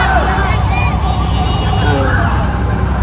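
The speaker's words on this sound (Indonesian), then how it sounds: "Ya, kasih jalan ambulan." A wailing ambulance siren rises and falls at a moderate distance, heard over steady traffic rumble and a low murmur of voices at a street protest.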